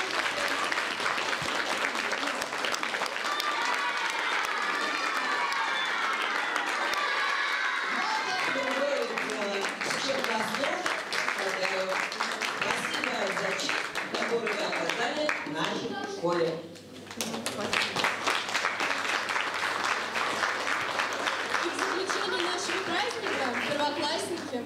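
Parents applaud at a school ceremony welcoming first-graders, with continuous clapping running beneath voices for most of the stretch and a brief dip near the middle.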